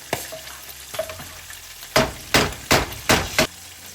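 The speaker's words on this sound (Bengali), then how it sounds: "এখন আমি এতে দিয়ে দিব তেল" Oil added to softened onions in a frying pan crackles and sizzles, with several loud, rhythmic stirring scrapes that grow stronger after the first couple of seconds.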